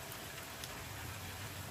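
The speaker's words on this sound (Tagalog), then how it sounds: "So, lakas ng ulan." Dense, steady hiss of heavy rain pouring down, continuous and loud with no pauses.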